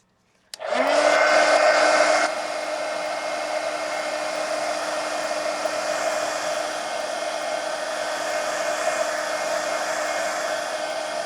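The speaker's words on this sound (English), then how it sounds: "And you can push it down like this with the heat gun too." A heat gun starts up abruptly, runs loudly for a moment, then settles into a steady, close whirring hiss of blowing air while it dries ink on a drawing.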